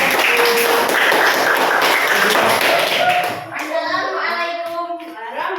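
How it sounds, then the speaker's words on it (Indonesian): Classroom of students clapping for the first group as it comes forward to present, a dense burst of hand claps that thins out after about three seconds, with children's voices chattering faintly underneath. "Tepuk tangan buat kelompok satu."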